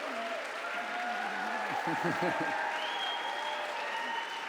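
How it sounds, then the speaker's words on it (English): An audience at the ASU+GSV event applauds for basketball legend Bill Walton, a soft steady wash of clapping heard from a distance while a voice speaks over it briefly. "Please give him a round of applause"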